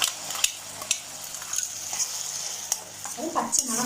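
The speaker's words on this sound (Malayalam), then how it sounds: "നമുക്കിനി ഉള്ളി അരച്ചത് ഒഴിച്ചു കൊടുക്കാം." Ground onion paste poured into hot frying ginger-garlic paste and stirred for a cabbage masala, a bright steady sizzle with scraping spoon strokes and occasional clinks close by, without talk.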